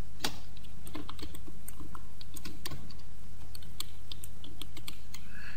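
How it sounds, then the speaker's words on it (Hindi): Rapid, uneven keystrokes on a computer keyboard as a word is typed into the Windows search box, close and crisp with short pauses between bursts, heard alone. "तो इसका एक तरीका तो ये है कि आप यहाँ पर लिखेंगे सर्च में"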